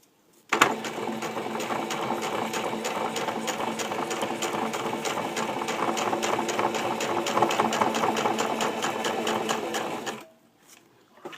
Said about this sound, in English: As I'm sewing, I try to pull the fabric out so it makes for a smoother